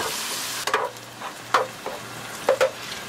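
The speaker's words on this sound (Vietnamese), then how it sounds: "mình cho cà chua băm vào xào nè" Chopped tomato sizzles steadily as it stir-fries in a hot pan while a utensil scrapes and stirs in a few quick strokes; no voices.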